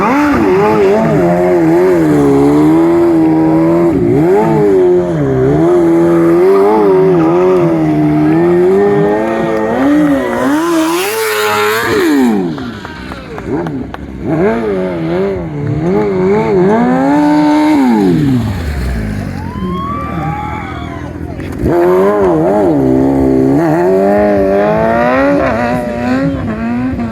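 Vintage motorcycles race at the Barber Vintage Festival, their engines loud and close as they rev and shift, pitch rising and falling through gear changes, with one bike sweeping past mid-way and more following.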